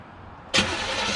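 A car engine starting on its first start after work: quiet background, then an abrupt catch into a loud, steady running rumble, close by.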